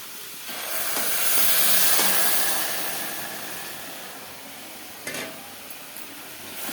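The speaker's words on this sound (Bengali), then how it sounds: "এখন আমি এই যে গরম জলটা দিয়ে দিব, পরিমাণ মতন দিব, সবটুকুই দিব না।" Hot water hits a pan of frying chicken curry (chicken kosha), bursting into a loud steaming hiss and sizzle that peaks early and slowly fades, followed by a few soft stirring clicks.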